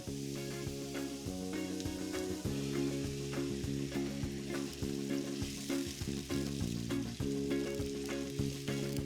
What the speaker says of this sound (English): I'm ready to deglaze with my white wine